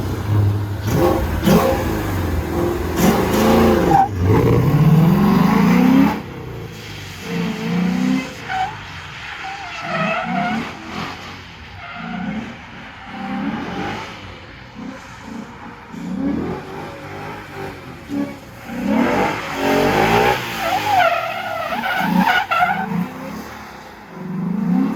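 A car drifting on a rain-wetted track on 315/40 FD tires, its engine revving hard and rising and falling through repeated slides while tires skid and squeal, loud and close throughout.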